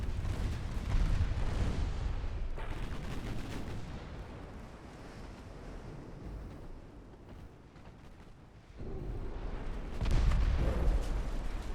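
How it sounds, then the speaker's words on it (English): Torpedo hits explode against light cruisers in a naval battle in the Ultimate Admiral: Dreadnoughts game, heard as deep, rumbling booms and rolling blasts over continuous low battle noise, with a louder burst near the end. "we're scoring torpedo hits on the light cruisers, just as planned"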